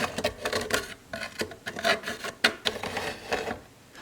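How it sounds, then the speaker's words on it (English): Close pencil tracing along a curve on quarter-sawn padauk wood for a custom guitar armrest, heard as uneven scratchy rubbing strokes in short bursts with brief pauses, alone with no talk. "what I'm going to do is trace the inside curve under here"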